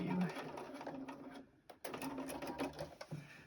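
A sewing machine runs in quick rhythmic bursts while back-stitching a fabric journal cover. The needle stops briefly midway and then starts again, close and fairly quiet.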